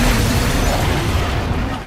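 A loud, dense film explosion roars with broadband rumble and crackle, sustained for about two seconds before cutting off abruptly.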